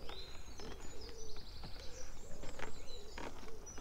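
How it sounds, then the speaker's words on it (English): Birds twitter and chirp beside a canal, with several short calls and trills scattered over steady outdoor background noise, moderately near. "and the birds twittering away in the background."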